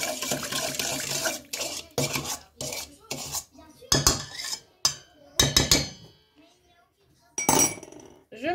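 Fresh yeast being mixed into flour in a bowl for donut dough, with a utensil clinking and scraping against the bowl in short, irregular bursts separated by brief pauses.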